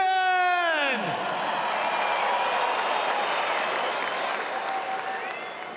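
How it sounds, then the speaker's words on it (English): A large crowd at a supercross event breaks into sustained, dense applause and cheering for rider Justin Brayton, starting just after a descending musical sweep and tapering slightly near the end. "give a massive round of applause for Justin Brayton?"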